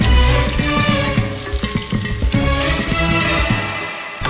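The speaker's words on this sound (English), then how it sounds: "The catfish meat is deep fried along with the head" Catfish meat and head deep frying in hot oil at a Central Asian street food stall, a loud steady crackling sizzle with bubbling throughout, some clatter of handling and background noise mixed in.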